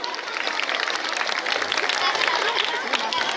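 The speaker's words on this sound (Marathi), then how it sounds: "त्यांचेही आपण सगळे त्यांच्यासाठी टाळ्या वाजवल्या पाहिजे" Audience in a village gathering applauding for the village elders, steady dense clapping throughout, loud and close with some crowd voices mixed in.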